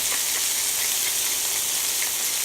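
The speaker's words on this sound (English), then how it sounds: "I want to saute these just for about 5 minutes till they start to take on a little bit of color" Garlic cloves, carrots, celery, mushrooms, potatoes and onions saute for pot roast in a steady, bright, close sizzle with soft crackles throughout, no talking.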